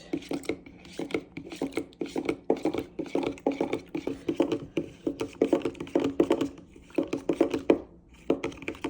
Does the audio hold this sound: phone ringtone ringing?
no